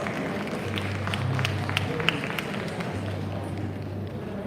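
Applause from an audience at a school prize-giving ceremony, a steady wash of clapping from a large crowd that continues evenly throughout, with a low hum underneath.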